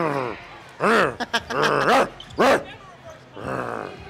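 A voice imitates a dog with a few short barking and whimpering yelps in separate bursts, close and fairly loud, set amid casual talk during a basketball finals game.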